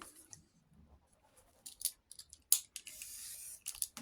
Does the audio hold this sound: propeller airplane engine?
no